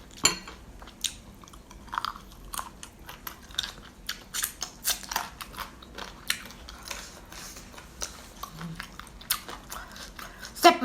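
Loud close-up chewing and crunching while eating Thai rice noodles in spicy fish curry with crunchy pickled vegetables, with irregular bursts of bites and mouth sounds over about eleven seconds.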